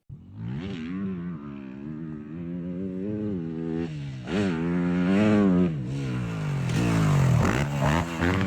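A motocross dirt bike is ridden by a professional racer on his first ride back after surgery, its engine revving and shifting pitch continuously with rising throttle bursts, loud and close, and no talk.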